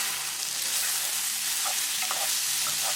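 Chicken breast frying in oil over high gas, a constant loud sizzle with light scraping and clinks as it is stirred.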